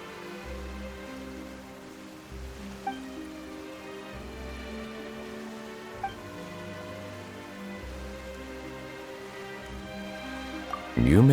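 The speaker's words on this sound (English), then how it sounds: "Why is it raining all of a sudden?" Sudden rain in the video game Genshin Impact, a soft steady patter and hiss of drops on surfaces with faint drips, sitting under a low looping musical drone with no voices.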